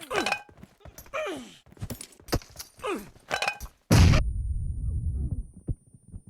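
Bursts of speech-like sounds, then a sudden loud grenade explosion in PUBG Mobile booms and trails into a rumbling, crackling decay.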